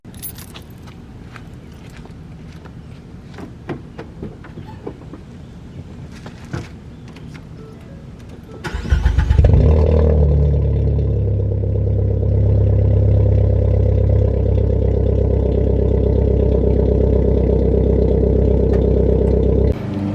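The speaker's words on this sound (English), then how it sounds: "So here's a startup." A Ford Focus starts up after faint key jangling and clicks inside the car. The engine cranks, catches with a loud burst, then settles into a steady, close idle hum that runs to the end.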